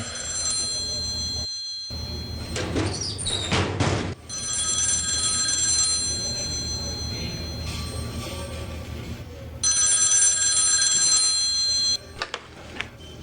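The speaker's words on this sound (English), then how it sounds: "That's your phone." A telephone rings in The X Files video game, a loud bright electronic bell in long repeated bursts separated by short gaps, heard up close with background room tone and no talking.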